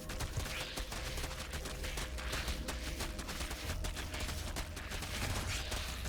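In a StarCraft 2 match, a third base comes under attack: dense, rapid bursts of gunfire and impacts crackle continuously with no pause, loud and busy.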